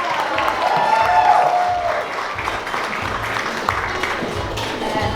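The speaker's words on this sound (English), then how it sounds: "Yeah, give her a round of applause." Loud applause from a crowd at a steampunk festival fashion show and cosplay contest for a model, dense clapping with scattered cheers and whoops, continuous and close.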